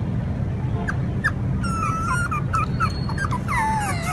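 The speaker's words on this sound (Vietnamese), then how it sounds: "Tiếng kêu như vậy đó là chó nó nói là đau quá." A puppy in pain whimpers and yelps in thin, high, wavering cries that come in short bursts and grow more frequent toward the end, heard close over steady low background noise.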